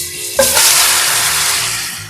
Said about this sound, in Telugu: ఆయిల్ హీట్ అయ్యాక చికెన్ వేసి మొత్తం మిక్స్ చేయాలి